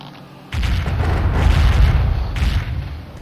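Ship cannon fire in the naval video game Corsairs: a single deep, heavy boom that rumbles on for about three seconds, loud and close.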